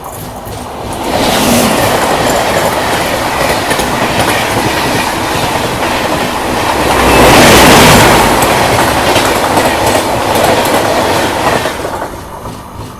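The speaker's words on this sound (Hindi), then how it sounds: "तो देखो सामने से क्रॉसिंग होने वाली है जोरहट टाउन गुवाहाटी जन शताब्दी एक्सप्रेस के साथ।" A Jorhat Town–Guwahati Jan Shatabdi Express rushes past on the adjacent track while the Guwahati–Agartala Express waits at the crossing, with a loud continuous rumble and rhythmic clatter of wheels that swells and fades again.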